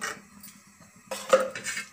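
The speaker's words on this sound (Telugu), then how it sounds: "కొంచెం మందంగా ఉన్న గిన్నె పెట్టుకోవాలి, మాడకుండా ఉంటుంది." A thick-bottomed pot is placed on a stove, making a quiet scrape, then a brief cluster of metallic clanks and knocks near the end.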